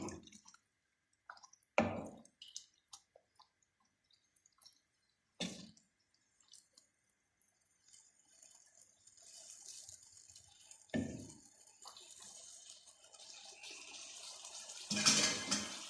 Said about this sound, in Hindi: पानी यहाँ पे बस इतना डालना है कि बस मटर गल जाए